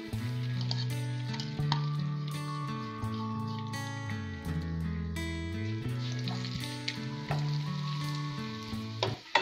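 Crumbled bread frying in melted ghee while being stirred, a steady close sizzle with scraping spoon movements in the pan, over a musical background and no talk.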